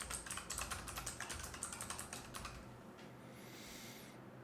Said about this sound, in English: how am I typing in chat if I'm not signed in?